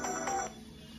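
An incoming call sets off a phone ringtone: a short electronic ring that plays for about half a second and then stops. It sounds fairly close and clear, and no one speaks over it.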